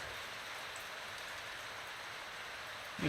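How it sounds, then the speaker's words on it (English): Heavy rain pours outside as a dense, even hiss of countless drops striking surfaces, steady and loud throughout the short stretch. "it's raining a lot now"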